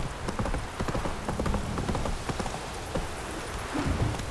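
Roach, the horse in The Witcher 3 video game, gallops with a fast, continuous clip-clop of hooves close by, rhythmic and busy from start to finish.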